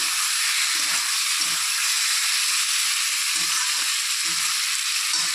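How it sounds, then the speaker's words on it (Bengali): Singhi fish frying in a pan give a loud, steady sizzling hiss, with soft periodic scrapes as the pieces are stirred, close and without talk. "মাছগুলো দিয়ে একটু নেড়ে করে দিচ্ছি"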